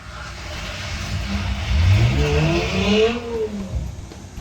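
A car driving down a dirt road, from a film soundtrack: a mid-pitched engine swelling as it accelerates, rising and falling in pitch over a few seconds, with no voices.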